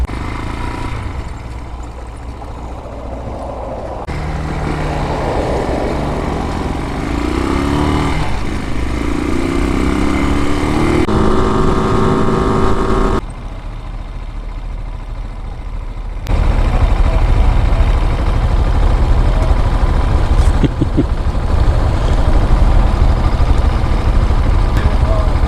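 A Honda Monkey and a Brozz Recon motorcycle ride toward Chassahowitzka wildlife, their small engines humming and revving steadily at close range through wind noise, the pitch shifting as they accelerate and ease off.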